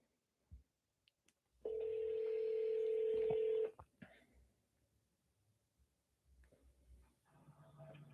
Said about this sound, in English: Jennifer, we'll give you a call.